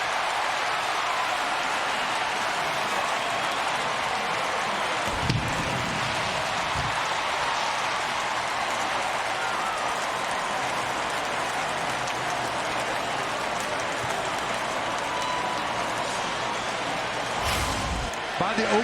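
A college football stadium crowd at South Carolina's home field roars after a touchdown against Oklahoma, a broad sustained wash of cheering held at steady volume throughout, with a few louder thumps and swells from the stands.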